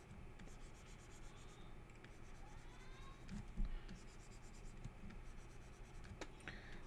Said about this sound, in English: So drawing boxes is essentially drawing